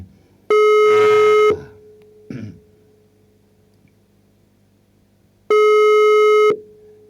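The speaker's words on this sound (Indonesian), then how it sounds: "teleponnya berulang kali telepon tidak pernah diangkat deh" During a live radio broadcast, an outgoing phone call goes unanswered. Two loud, steady ringback tones of about a second each sound a few seconds apart over a quiet background hum.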